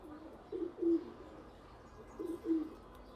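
A pair of pigeons, a small male and a much larger female, give two soft, low double coos a couple of seconds apart, close by over quiet room tone.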